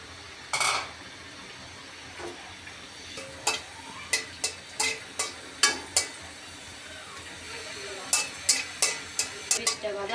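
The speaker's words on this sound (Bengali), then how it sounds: "কিছু শুকনো মরিচ দিয়ে দিলাম এগুলা একটু কালো কালো করে বাইজে নিব" Dried red chilies fry in a pan with a soft background sizzle, broken by a string of sharp clicks and scrapes from stirring, most of them clustered in the middle and near the end.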